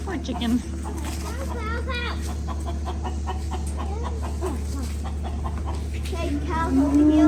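Chicken clucking on a Wisconsin farm, repeated short clucks under steady children's and adults' chatter, with a low background hum.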